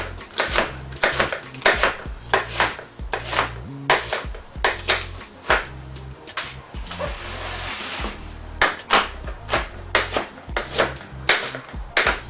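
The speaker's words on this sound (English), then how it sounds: "And we're just going to do a rough chop." A knife rough-chops an onion on a cutting board, close and loud, with bursts of rapid thudding strokes separated by short pauses and occasional board scrapes, heard alone.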